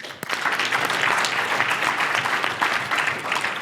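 Audience clapping at a pitch competition event welcoming judge Stacy Tank, a dense, fairly loud burst of applause held steady for a few seconds.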